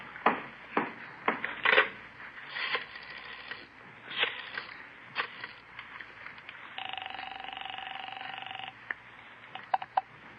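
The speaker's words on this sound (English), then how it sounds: "Call Jess Gonzalez" An old telephone is dialed by a detective in an office, with a run of clicking dial pulses and handset knocks followed by a steady ring tone heard over the line, close and without voices.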